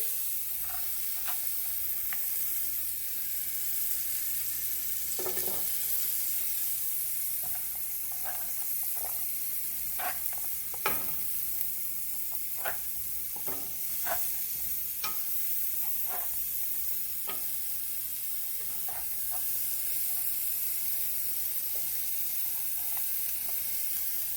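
Celery sautéing in butter in a soup pot makes a steady close hiss and sizzle, with scattered small pops and crackles throughout and occasional light scrapes.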